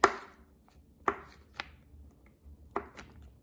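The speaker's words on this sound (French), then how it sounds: "Mon reste de beurre, normalement c'est un peu plus que ça mais bah, j'ai plus que ça. Je vais le couper en petits morceaux." A knife chops a small leftover block of butter into little pieces on a board, giving four or five sharp, separate cutting thuds spaced irregularly, close and clear with no talking.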